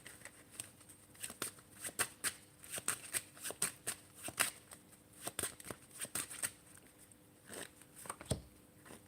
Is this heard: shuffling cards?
yes